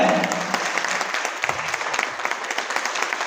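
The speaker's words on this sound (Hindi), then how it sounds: "ताली बजती है" An audience at a success-training seminar applauds steadily, a dense even wash of many hands clapping without letup throughout.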